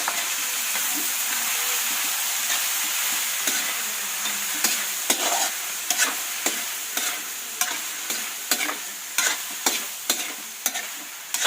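Shredded stingray kinunot hisses loudly in a hot pan. Toward the end, a series of regular scraping stirring strokes rises above the continuous sizzle.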